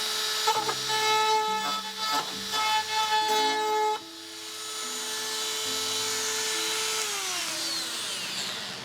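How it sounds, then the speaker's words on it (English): A Dremel rotary tool with a spiral bit cuts into a plastic dollhouse window, producing a high whine that pulses in short bursts at first, then runs steadily before winding down in pitch near the end. "So I'll probably use this Dremel tool again."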